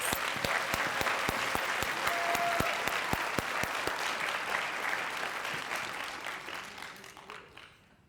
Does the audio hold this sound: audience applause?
yes